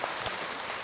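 Audience applause breaks out at a Buddhist monk's live question-and-answer talk show, a brief, steady wash of clapping from the hall with no voices over it.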